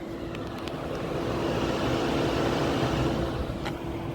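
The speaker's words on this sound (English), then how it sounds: "You can hear the car running." A parked car runs in 115-degree heat to keep its batteries cool, producing a steady low hum with a constant tone, moderately close and without talk.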